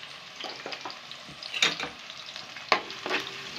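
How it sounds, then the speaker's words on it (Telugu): Cut onions sizzle steadily in hot oil as a spoon stirs them through the pan, with a few sharper scrapes and clinks over a continuous crackling fry. "అలాగే ముందుగానే మనం కట్ చేసి పెట్టుకున్న 2 ఉల్లిగడ్డల్ని కూడా ఈ నూనెలో వేసేయండి"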